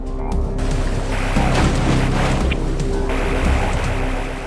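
A cavern waterfall in the video game AM2R gives a loud, continuous, broad rushing roar with no breaks, steady from start to finish.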